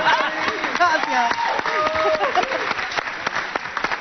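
Audience applause at a live comedy show in Mexico City, a dense burst of clapping with a voice speaking over it throughout.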